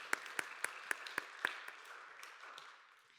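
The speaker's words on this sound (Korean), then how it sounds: "서로를 격려하면서 박수하겠습니다." A church congregation at a Sunday young-adult worship service claps in a brief round of applause, starting with several sharp distinct claps and fading into softer scattered clapping.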